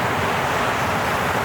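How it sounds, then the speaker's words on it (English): A large waterfall in the Alps roars in a steady, dense rush of falling water, loud and unbroken with a broad hiss and low rumble, and no voices over it. "So yeah, big waterfall, this one. Very impressive."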